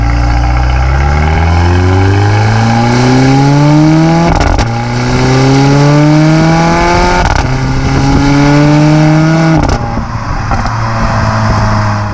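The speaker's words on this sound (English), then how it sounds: "So you can punch it, hear that exhaust" A 2019 Mercedes-Benz CLA 45 AMG accelerates hard, its exhaust rising through three or four gears in loud climbing sweeps, each broken by a sharp shift crack, heard up close with no talking.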